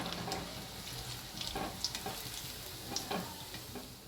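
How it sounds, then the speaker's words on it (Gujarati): Potato rings frying in oil in a home kitchen, a close, steady sizzle with irregular crisp crackles and ticks running through the whole short stretch. "આવી રીતે બધી તળી લેશું."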